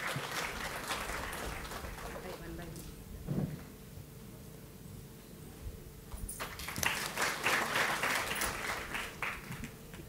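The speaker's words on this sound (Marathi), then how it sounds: "जोरदार टाळ्या" Applause from a conference audience at a business conclave, a dense patter of clapping that swells in the second half, mixed with room noise and bursts of nearby talk.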